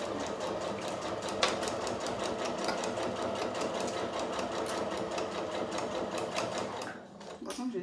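A domestic sewing machine stitching piping onto a fabric backpack, a rapid, steady mechanical whir and needle patter running close and continuous, then slowing and stopping near the end.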